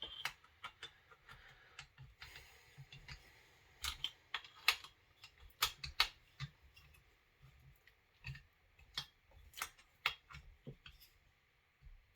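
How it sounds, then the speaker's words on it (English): A torque wrench clicks repeatedly while the cylinder is fitted onto a Husqvarna 266SE chainsaw. Sharp, close ticks come in uneven bursts over a quiet background, with no talking. "Click. That's a torque wrench. Click. Click. Click."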